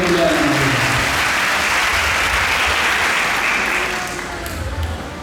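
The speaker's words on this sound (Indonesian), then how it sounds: "Berikan tepuk tangan untuk kemuliaan" Congregation at a Christmas celebration of the Gereja Pentakosta Indonesia in Nias clapping together, a dense, loud wash of applause that fades out toward the end.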